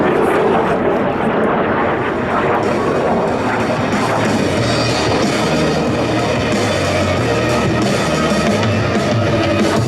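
Snowbirds jet aircraft performing at the Red Deer airshow in 2023, a loud continuous roar of jet engines filling the whole stretch without letting up.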